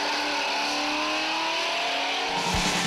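A race car accelerates hard on a track, its V8 engine a loud, steady rising roar close by that holds for a few seconds before a brief rougher burst near the end.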